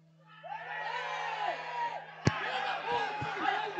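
A football crowd protests at Estádio Caio Feitosa during a Sergipe Série A2 match, shouts rising and swelling, with a sharp thud midway, heard faintly at a distance under a commentator's voice.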